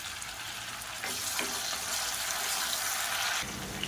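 Chopped tomato and split green chillies sizzle as they fry with golden-browned onions in a pan, a steady hiss that jumps louder after a second, then eases slightly at the end.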